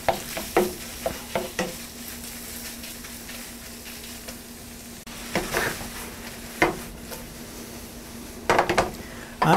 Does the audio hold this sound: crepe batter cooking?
yes